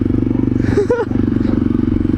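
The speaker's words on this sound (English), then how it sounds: "And I'm on my bike with the new FMF." Motorcycle fitted with a new FMF exhaust, idling with a loud steady pulsing rumble at close range, broken by a brief clattering scrape near the middle.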